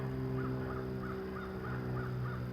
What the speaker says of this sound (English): hopefully these planes and crows aren't too loud